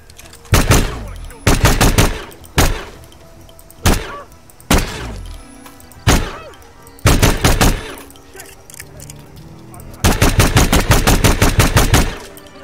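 Loud gunfire in the stealth video game Hitman 2, set in Bangkok, Thailand. Sharp single shots and short rapid bursts sound up close, separated by pauses, with a final sustained volley near the end.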